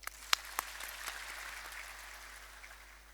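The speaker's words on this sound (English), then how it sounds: "Please join me to applaud for his professorship of Safino Alamu Makonnen" A few sharp claps ring out before an audience settles into soft, sustained applause at a university professorship ceremony, heard faintly and at some distance.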